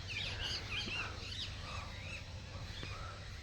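Several birds chirp and tweet in short, scattered bursts over a quiet morning backdrop with a low steady hum beneath, the calls light and moderately distant.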